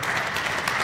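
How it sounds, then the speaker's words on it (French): Applause from a crowd at a funeral gathering in London, a dense and fairly loud burst of clapping that lasts under a second. "applaudissements pour la délégation de la Belgique"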